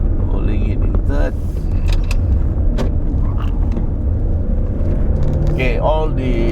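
A 2019 Audi Q8 engine held in third gear in manual mode gives a steady, loud rumble heard from inside the cabin, with a voice talking over it.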